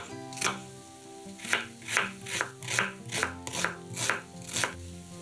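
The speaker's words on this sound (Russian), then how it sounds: "Одну луковицу нарезаем кубиками." A knife chops an onion into cubes on a cutting board, about nine close, even strikes in quick rhythm, with soft background music underneath.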